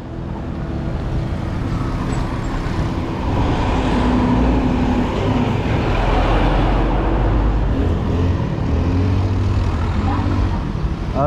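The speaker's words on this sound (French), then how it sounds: "là, ici, les voitures" Cars pass along a road in a steady swell of traffic noise, engines and tire rumble building and fading, with someone talking over them.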